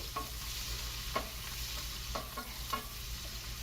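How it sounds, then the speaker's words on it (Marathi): Drumstick pithale cooks on a medium gas flame, a steady soft sizzle with a few faint spoon scrapes spaced through it, no voices. "गॅस मात्र आपला आता एकदम मीडियम ठेवायचा आणि याला छानपैकी असं शिजवून घ्यायचं।"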